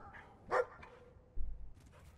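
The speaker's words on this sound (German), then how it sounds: "Unser echter Hund hat gerade gebellt." A real dog barks in the room, with a single short bark followed by a fainter low thump and rustle, quiet and close.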